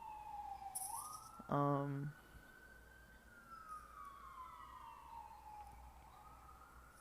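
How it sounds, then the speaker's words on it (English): Emergency vehicle sirens drifting in through an open window, a wailing tone sweeping up and down across the whole stretch, with a brief horn-like blast near the start and a person murmuring close by. "there's like a lot of sirens though"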